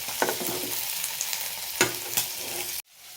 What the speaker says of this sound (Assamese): আলুখিনি এক্সট্ৰাকৈ ভাজি লৈছোঁ